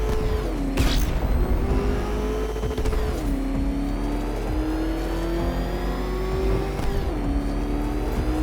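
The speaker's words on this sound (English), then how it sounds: "Can that ramshackle motor handle this?" The Batmobile's car engine revs hard in Batman Arkham Knight, a loud continuous roar whose pitch climbs and drops back several times as gears shift, with whirring mechanical layers and no talk over it.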